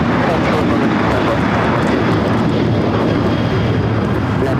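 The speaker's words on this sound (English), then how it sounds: "This is United Airlines 469 taking off to San Francisco on the 737-800" A United Airlines Boeing 737-800 taking off from Los Angeles airport, a loud, constant broadband jet-engine roar filling the whole stretch, with people talking nearby under the noise.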